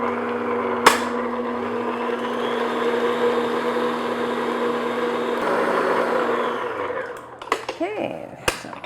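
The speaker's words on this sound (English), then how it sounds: "I'm going to add 1 egg at a time, beat that in on medium speed" An electric mixer on medium speed beats eggs one at a time into vanilla sheet cake batter with a steady, close motor whine lasting several seconds, then winds down and stops amid clanks of the bowl and beaters.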